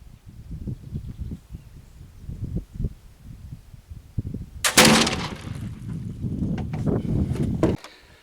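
A firearm loaded with homemade black powder fires once outdoors, a loud broad blast with a long rumbling tail, preceded by low thumping handling noises and a breezy background.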